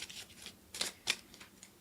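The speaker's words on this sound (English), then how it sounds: "you give them a good quick shuffle" A deck of cards for the Alien Frontiers tabletop game gets a quick shuffle, a faint, brief run of soft papery riffles and clicks close by.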